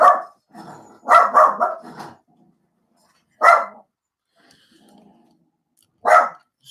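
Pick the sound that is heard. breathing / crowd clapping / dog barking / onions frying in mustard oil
dog barking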